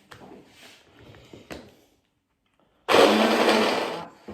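An onion grind in a blender starts abruptly after quiet kitchen sounds, a loud, close whirring burst lasting over a second before cutting off.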